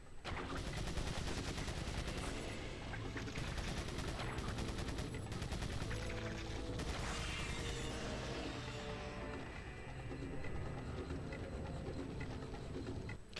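Sustained machine-gun fire in Resident Evil 4, dense rapid bursts running nearly the whole time at a loud, steady level with scattered sharper cracks and no talking.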